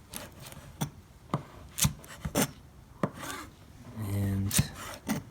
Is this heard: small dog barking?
no